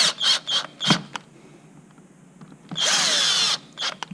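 A power drill drives two screws during reassembly of a Zip Top Box: short bursts of whirring, a pause, then one longer steady drive and a final brief burst, close and crisp.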